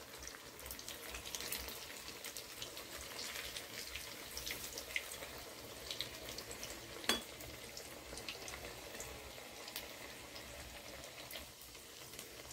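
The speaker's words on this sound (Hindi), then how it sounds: "गोल्डन ब्राउन होने तक फ्राई कर लेंगे हम एक एक करके" Bread pizza pockets deep-frying in oil give a faint, steady sizzle and bubbling hiss throughout, with a single light knock partway through.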